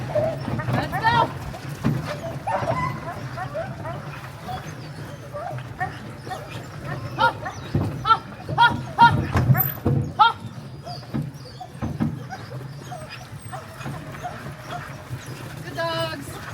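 Sled dogs yip and bark in bursts during a dog sledding run near Juneau, Alaska, with a steady low rumble of the moving sled beneath; people talk intermittently over the dogs.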